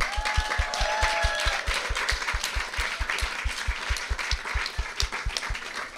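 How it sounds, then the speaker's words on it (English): An audience at a community event claps together in a sustained round of applause, the dense patter of many hands filling the room at a steady, even level for several seconds, with a voice briefly audible underneath. "let's all give all of these builders and engineers a round of applause"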